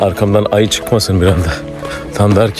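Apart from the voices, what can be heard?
No everyday noise stands out behind the speech.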